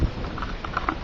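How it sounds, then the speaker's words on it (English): Rain falls outside a house on a stormy day, heard from indoors as a soft, steady patter with scattered sharper drops. "Ooh, it's raining."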